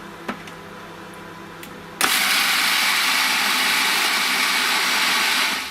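A food processor whirs loudly and steadily, crushing a 250 g packet of biscuits into fine crumbs with melted butter, starting abruptly after a couple of faint knocks and running continuously.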